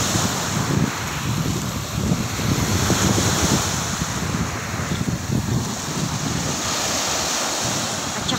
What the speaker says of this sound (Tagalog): Kita nyo ba guys yung alon? Delikado ito, papaliguan.